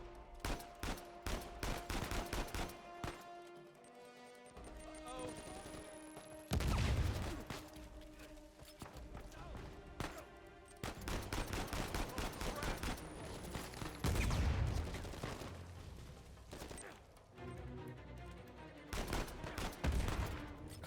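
Sustained gunfire in the video game Uncharted 4: A Thief's End, with rapid automatic bursts, heavy booming shots and ricochets layered over a steady background hum, loud throughout in several waves.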